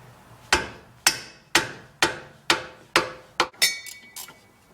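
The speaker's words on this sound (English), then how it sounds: "wrench on here and pound on it to loosen it." Sharp metallic hammer blows strike a wrench to break loose a stuck bolt on a 1994-2004 Ford Mustang suspension, about nine close, loud, evenly spaced hits with ringing decay, the last few quicker and with a faint clinking ring.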